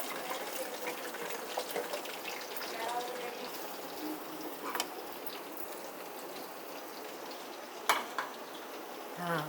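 Onions sizzle and fry in a pan for masala bhindi, a faint steady crackle throughout with occasional clinks and stirring sounds.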